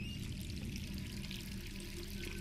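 Water runs from a bathroom tap in the video game Resident Evil 3 Remake, a steady, even hiss and splash that carries on without a break and with no voices.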